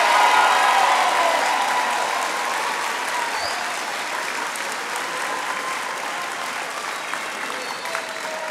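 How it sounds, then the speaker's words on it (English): A large audience applauds the graduating class at an eighth grade promotion ceremony, a loud, continuous roar of clapping that gradually eases slightly over several seconds. "Let's give our class of 2027 a big round of applause."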